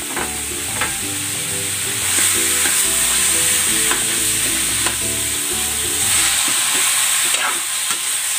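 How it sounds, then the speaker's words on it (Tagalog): Pieces of pork belly sizzle in a pot with tomatoes for a Filipino sinigang, crackling steadily up close while a spoon stirs and scrapes at intervals, with no voices. "ilalagay ko na dito itong liempo."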